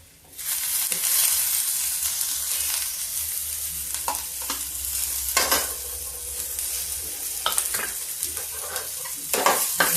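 Green chillies fry in hot oil with a steady, loud sizzle and hiss, broken by occasional stirring scrapes and clatter.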